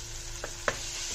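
Coarsely ground masala paste for a dry fish curry sizzles steadily in a pan while a spoon makes two quick stirring scrapes, the second louder, with no voices.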